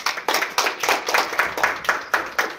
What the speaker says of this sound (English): let's give him applause for his talk